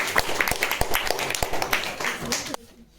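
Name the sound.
applause for a student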